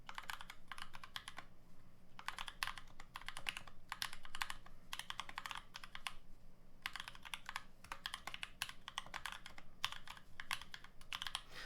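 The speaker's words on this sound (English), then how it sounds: "At least I can tell like when I'm typing, but I think that's a really nice sound" Typing on a Novelkeys NK65 mechanical keyboard with lubed switches, a steady run of quick muffled keystrokes in bursts with short pauses, close and clear over a low background hum.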